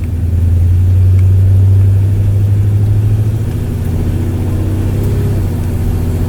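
A 1972 GMC Sierra Grande truck engine hums loud and close while driving, its pitch dropping twice as the automatic transmission shifts up to the next gear.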